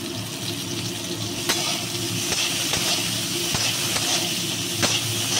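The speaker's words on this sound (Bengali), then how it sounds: "এবার ওই তেলে আমি করলাগুলো ভেজে নিচ্ছি।" Bitter gourd slices frying in oil seasoned with a little salt and turmeric give a steady, close sizzle with a few sharp pops and crackles scattered through, and no voices.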